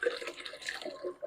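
Water splashes and trickles as it is poured into a bowl of soaking beans in a home kitchen, with short gurgling bursts close by.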